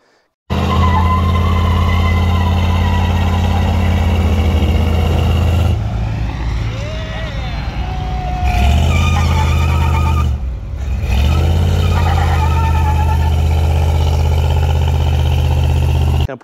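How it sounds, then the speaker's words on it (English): A 1959 Chevrolet Biscayne car doing a burnout: a loud, close engine roars steadily at high revs, dips briefly midway as tires squeal and skid, then climbs again before cutting off. "So I've got a burnout video of Dave, or a lack thereof."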